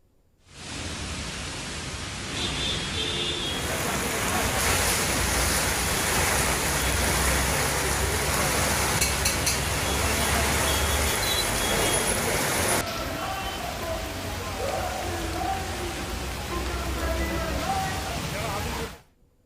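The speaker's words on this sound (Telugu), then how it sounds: "హైదరాబాద్ లో వర్షం దంచుకొట్టింది." Heavy rain pours down over Hyderabad in a dense, unbroken roaring hiss that holds steady for the whole stretch, shifting slightly in tone midway before cutting off.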